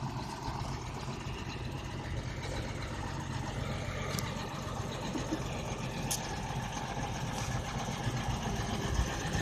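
A 1998 Vactor 810 vacuum truck on a Ford chassis idles with a steady, even diesel drone, constant and moderately loud, with a few faint high clicks over the top.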